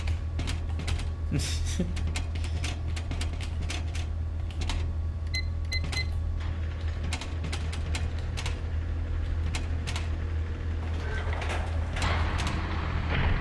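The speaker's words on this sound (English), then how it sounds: "That was an awesome door animation." Heavy mechanical door in the Black Mesa video game sliding open, a steady creaking, grinding mechanism with clanks over a constant low hum, loud and continuous for the whole stretch.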